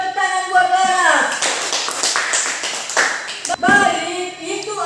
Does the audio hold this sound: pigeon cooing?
no